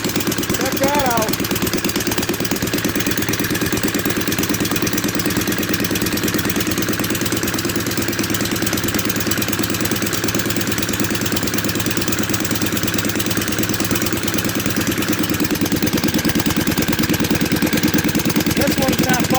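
A John Deere Gator engine runs continuously after start-up with a steady, rough idle, one cylinder not firing well, close and loud for nearly twenty seconds while people talk over it.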